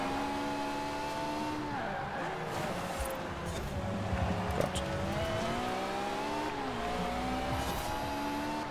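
Car engine in the racing video game Forza Horizon 4 revving steadily, its pitch rising and dropping through gear changes, with a brief skid-like burst midway; loud and continuous throughout.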